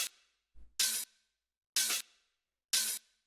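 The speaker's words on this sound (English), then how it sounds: "The next thing we have here, these little chops, which sound like this." Short percussive vocal chops from a Toolroom-style house track: a brief low blip, then three clipped, bright bursts spaced about a second apart, each ending abruptly in silence.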